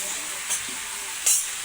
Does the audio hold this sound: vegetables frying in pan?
yes